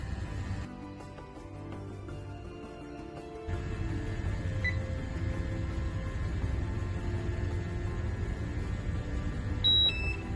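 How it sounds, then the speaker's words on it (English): Air quality monitor alarm sounding for a hazardous atmosphere: steady electronic beeping tones over a constant mechanical background hum, growing fuller partway through and staying loud and continuous to the end. "You can hear the alarm going off."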